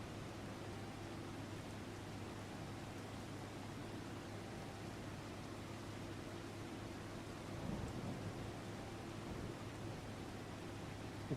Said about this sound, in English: let's speed things up a bit and get rid of this rain.